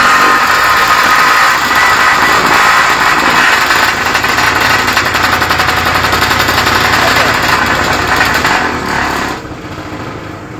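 A 2 kW diesel generator runs loud and close under load from a 1.5 hp motor, a dense rapid engine clatter with steady drone that drops off slightly near the end.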